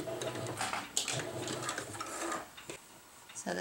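A home sewing machine top stitching a round-bottomed fabric bread bag, running in a fast, steady mechanical whir with brief slowdowns and pauses, close and clear without talk.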